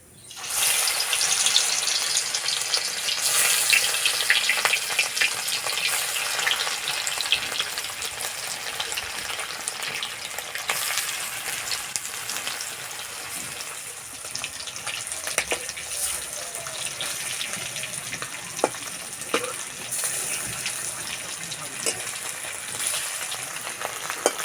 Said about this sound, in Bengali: এই তেলে ভাপাগুলো ভেজে নেব।